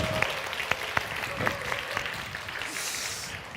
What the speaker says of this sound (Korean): 수고하신 분께 박수 한번 할까요?